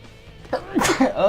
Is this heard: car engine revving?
no